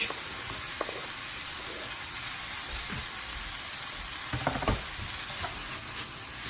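Mixed vegetables frying in a pan for a pasta dish, a steady broadband sizzle with a few stirring knocks and scrapes near the end, close and fairly quiet, with no talking.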